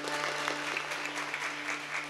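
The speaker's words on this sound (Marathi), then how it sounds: "कौतुक करा, टाळ्या वाजवा त्यांचं." Audience applause at a village Ram Janma festival kirtan, a steady wash of many hands clapping throughout, fairly distant and even, with a faint sustained tone beneath.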